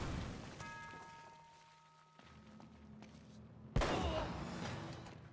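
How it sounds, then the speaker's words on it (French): A grenade blast in the video game Uncharted: Drake's Fortune lands as one sudden loud boom late on, after quieter game effects and tonal sounds. "Grenade."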